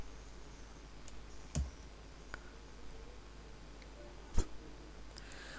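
A computer keyboard key is pressed a few times while entering settings in accounting software, giving isolated crisp clicks over a faint steady room hiss, with no talk.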